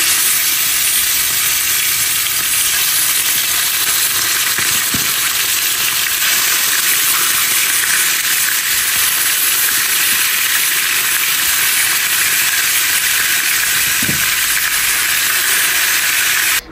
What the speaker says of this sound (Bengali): তো এখন হচ্ছে লেগ পিসগুলোকে ফ্রাই করে নেব।